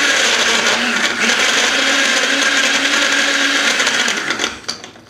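A blender whirs loudly and steadily, blending a caramel frappuccino for about four seconds before the motor winds down and the noise tapers off into quieter clatter.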